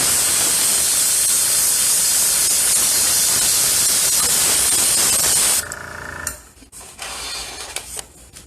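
An airbrush sprays paint onto a tumbler in a steady, loud, close hiss that runs unbroken for over five seconds, then cuts off, leaving faint handling clicks and soft noise.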